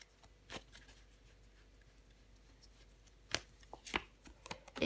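Tarot cards are handled and laid down over the three of swords, soft papery slaps and brushes, a few isolated taps early, then a quicker cluster of crisp card sounds near the end, close and fairly quiet.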